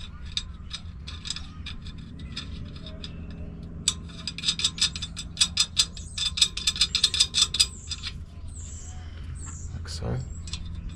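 Bolts being fitted on a rear disc brake of a C10 truck: a run of rapid metallic clicks and ratcheting in the middle, close by, over a steady background hum.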